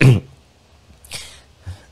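A man coughs during a live Ramadan lecture: one sharp, loud cough, then two weaker, shorter coughs about half a second apart, each close and alone.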